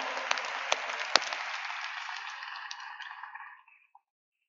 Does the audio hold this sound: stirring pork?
no